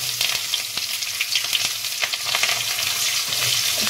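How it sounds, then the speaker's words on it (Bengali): Onion fries in hot mustard oil with garlic and mustard seeds, giving a loud, close, continuous sizzle with small pops and crackles throughout and no talking. "এইবার দেব পেঁয়াজ, সর্ষেটা একটু ফুটে যায়।"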